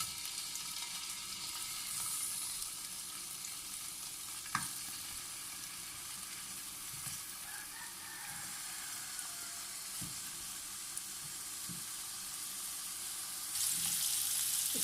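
Potatoes fry in desi cow ghee in a pan, giving a steady close crackling sizzle throughout with a few light knocks and stirring clinks, and no one speaking.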